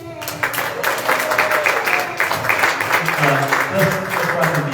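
Audience clapping at a Flint, Michigan election candidate forum, a steady moderate patter of applause from the room with a voice talking over it.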